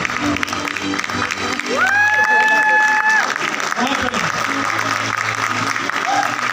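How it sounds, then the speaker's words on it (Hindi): An audience applauds at an award ceremony. Close, sustained clapping and crowd noise run throughout, with a brief tonal sweep and some speech heard over it. "तालियां रुकनी नहीं चाहिए"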